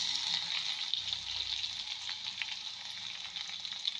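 Garlic clove paste frying in hot oil in a pan for a Telangana raw mango pickle, giving a steady close sizzle with soft crackles throughout and no talking.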